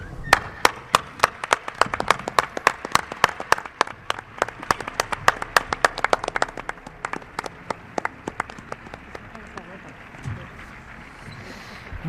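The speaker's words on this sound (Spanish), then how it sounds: "y para el gran Javier Pérez Campos, pues quizá el último aplauso de la noche." Audience applause at a live radio show recorded in Mérida: dense, steady clapping from a crowd, fairly close, gradually thinning and fading toward the end, with some voices underneath.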